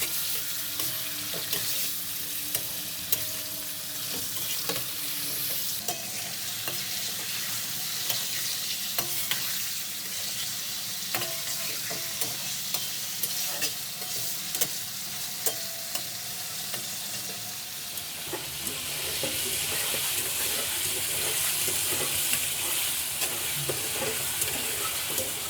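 One kilogram of chicken sizzles and fries in hot ghee in a karahi, street-style Cholistani karahi cooking, a steady dense crackle with stirring scrapes, growing louder and brighter toward the end, no talking.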